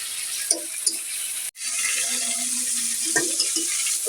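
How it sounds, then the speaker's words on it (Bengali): Eggplant and potato pieces fry lightly in oil with a steady sizzle, broken by a few clinks and scrapes of a spoon stirring them in the pan, with a brief cut in the middle. "সামান্য একটু লবণ ছিটিয়ে এটা আমি হালকা ভেজে নেব"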